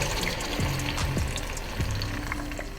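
Half a cup of water is poured into a pan holding onion, garlic and ginger, giving a brief close splash and bubbling hiss, with a few soft knocks and no talking.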